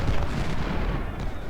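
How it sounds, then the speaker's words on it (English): Civil War artillery guns firing in Ultimate General: Civil War at the Second Battle of Bull Run, a rumbling barrage of booms blending into a steady, loud roar of cannon fire. "And now guns, open up on Sherman."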